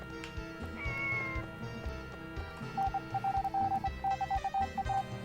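Cartoonish cat meows from the Harvest Moon 64 farming game, a couple of drawn-out calls early on followed by a quick run of short, bright repeated meow blips over steady game music, with no talking.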